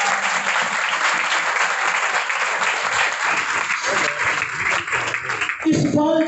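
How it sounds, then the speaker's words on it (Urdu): A church congregation claps in sustained, dense applause filling the room at steady loudness, with a voice breaking in near the end. "آئیے دو تالیاں بجائیے۔"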